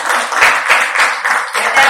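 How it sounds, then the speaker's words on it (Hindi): An audience at a Highrich plan presentation applauds loudly, steady dense clapping filling the whole short stretch with slight swells. "एक बार जोरदार ताली होनी चाहिए।"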